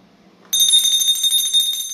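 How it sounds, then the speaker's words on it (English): A hand bell starts ringing abruptly after a quiet moment, producing a bright, rapid, continuous metallic jangle with a strong high tone, loud and close for the rest of the clip. "I ring this bell for all you."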